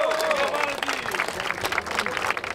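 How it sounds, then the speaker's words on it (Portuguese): A crowd at a rap battle final applauds loudly, a dense roar of clapping with cheering voices mixed in and a shouted call rising over it. "palmas pra essa batalha."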